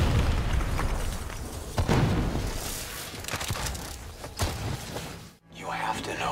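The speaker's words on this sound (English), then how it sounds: "They're about to detonate!" Explosion in a Call of Duty: Black Ops 3 cutscene as robots detonate in a frozen forest, a dense rumbling blast bed with repeated bursts and debris, a sudden drop to near silence near the end, with voices speaking over it.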